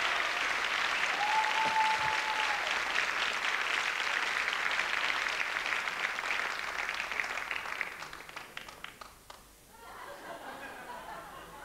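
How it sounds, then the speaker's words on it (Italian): A television studio audience claps loudly and continuously with scattered chuckles, then the applause fades and breaks off near the end into quieter room sound. "un bel applauso"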